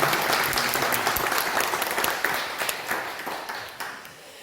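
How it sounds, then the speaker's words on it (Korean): A church congregation applauds during a Sunday worship service, dense continuous clapping at close range that slowly fades toward the end. "여러분 박수 한번 보내시기 바랍니다"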